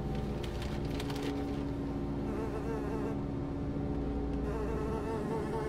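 A wasp buzzes indoors, close and steady, with a continuous droning hum that wavers slightly in pitch as it moves about the room, heard alone without any talk.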